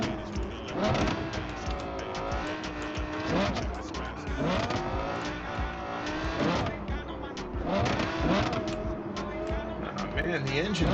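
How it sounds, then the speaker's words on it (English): In a video game, a car engine revs and roars as it is driven along an open road, pitch rising and falling through gear changes, with occasional tire squeal. Someone talks over it. "the engine noise is kind of atrocious though"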